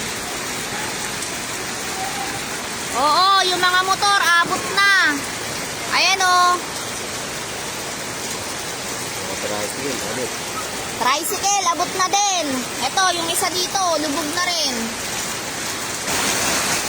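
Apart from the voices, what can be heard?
heavy rain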